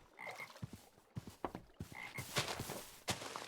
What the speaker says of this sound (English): I can hear a frog, but I can't see a frog.